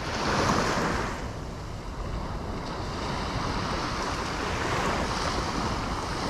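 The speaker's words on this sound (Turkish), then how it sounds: "Yine biraz dalga." Sea waves breaking on a shallow sandy shore at Burnaz beach in Erzin, a steady washing roar with wind noise and a louder surge at the start, with no talk.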